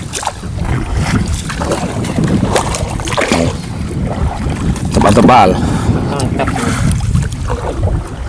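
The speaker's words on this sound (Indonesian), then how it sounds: "Kita nyebrang naik ketek Mas Bro." A ketek, a small wooden motorboat, crosses a river with a steady engine and water wash under wind noise, while people talk throughout.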